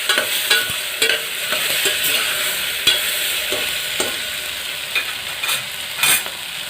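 Potatoes stirred in a hot pan for aloo tahiri, a spoon scraping and clattering in irregular strokes over a soft continuous sizzle, close and fairly loud, with no voices.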